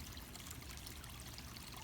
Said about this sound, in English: So anyways, there is the waterfall. Then there's this creek that runs down with a little standing pool right there.